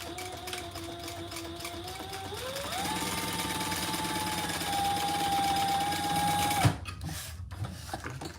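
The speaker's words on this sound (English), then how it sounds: "Now we're gonna top stitch on the folded edge" A sewing machine runs steadily while it top-stitches along a folded fabric edge for a mini bag, its motor whine climbing in pitch partway through and then stopping abruptly with a clunk, followed by quiet handling.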